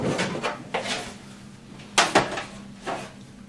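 Plastic vents on the lid of a heated seed propagator slide open and shut, making a few short scraping clicks spaced irregularly, close and fairly quiet, with no talking.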